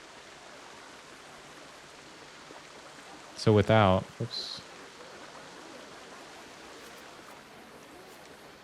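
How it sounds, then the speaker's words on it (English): A waterfall in Planet Coaster 2 gives off a constant, even rushing hiss throughout, while someone speaks briefly over it near the middle. "It is very nice with the water, isn't it? Or with the waterfall specifically."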